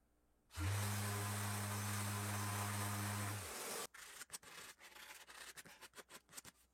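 A wooden armchair is hand sanded: a steady, close rubbing hiss for about three seconds, then a run of short, uneven scrubbing strokes.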